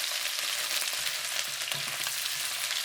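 Pork riblets with onion and cilantro fry in a pan, a dense, steady sizzle and crackle close up that runs unbroken throughout, with a few soft stirring knocks.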